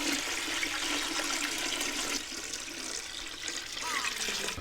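Warm fresh well water runs and splashes into a container while a salted brine for fermented peppers is mixed, a continuous bright rushing pour heard up close without talk.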